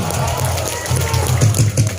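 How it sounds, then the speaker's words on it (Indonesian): An audience at the opening of the 15th Pekan Gawai Naik Dango festival in Sambas Regency bursts into crowd noise and applause, loud and close with overlapping voices. "Mari berikan tepuk tangan yang meriah"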